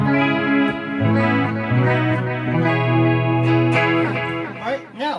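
Clean electric guitar through an Emperor chorus pedal dialed for an 80s glam metal tone, ringing sustained chords and arpeggiated notes with a shimmering, wavering modulation, played up close and loud.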